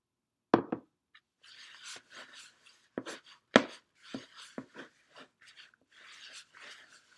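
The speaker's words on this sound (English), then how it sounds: "I'm gradually stirring it in." Puffy paint mixture stirred in a bowl with a utensil, producing soft irregular scraping and brushing strokes with a couple of sharper knocks, quiet and close with pauses between strokes.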